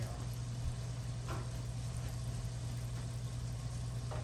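Flour-dredged shrimp fry in hot oil, a steady even hiss of sizzling over a low constant hum, quiet and unbroken throughout.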